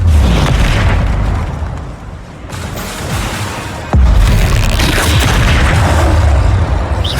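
A Bombarda blasting spell cast in the video game Hogwarts Legacy, heard as loud, booming explosions with a deep rumbling tail and a second sharp blast midway, amid dense in-game combat noise.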